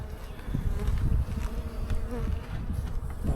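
Honey bees buzz steadily and close during an early-spring beehive inspection, a dense droning hum that swells and dips with no talk.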